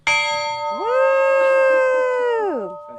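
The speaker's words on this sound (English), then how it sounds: "a chance to ring Queen Anne's bell" A loud strike of Queen Anne's church bell in Bath, North Carolina rings out, followed by a long sustained metallic tone that swells, holds, then fades, with a voice-like howl gliding over it.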